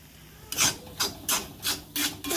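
Chicken being mixed by hand with chili powder, turmeric and chicken masala, giving five or six close, soft rubbing squishes in a steady rhythm with short pauses between, no talking.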